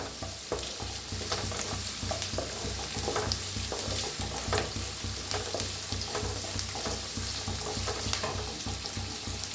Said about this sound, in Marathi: गाजराला बी भाजून घ्यायचं कांद्याबरोबर चांगलं